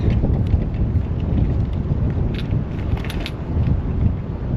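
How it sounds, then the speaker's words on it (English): Loud, rumbling cold wind in a storm buffets the microphone in a constant low roar, with faint rattling in the background and no speech. "It is cold, windy, not nice."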